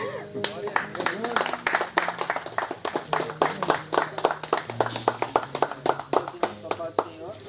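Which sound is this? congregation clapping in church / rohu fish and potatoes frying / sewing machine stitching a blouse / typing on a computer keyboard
congregation clapping in church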